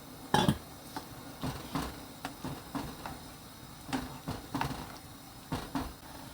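Chopped squash, potato and onion dropped into a pot for doenjang stew, giving a series of irregular soft knocks and clinks of vegetables and utensil against metal, close and fairly quiet.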